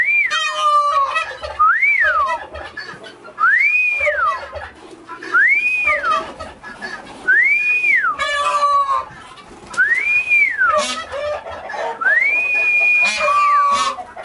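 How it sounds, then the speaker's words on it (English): A person whistles repeatedly to call farm pigs, goats, sheep and a rabbit at feeding time: about seven rising-and-falling whistles in a steady rhythm, close and fairly loud over faint background noise. "so you just have to whistle to get them going"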